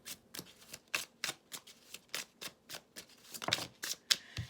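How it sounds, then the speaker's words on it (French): Cards from a tarot deck are handled and drawn, giving a string of crisp, papery flicks and snaps at an irregular pace, close and soft, with a couple of sharper slaps near the end. "On va prendre la carte des vierges à présent."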